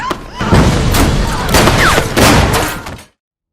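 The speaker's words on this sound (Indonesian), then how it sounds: "Mendengar suara tembakan" A film action scene erupts in loud, rapid gunfire, with dense overlapping shots and bangs for about three seconds before cutting off abruptly into silence.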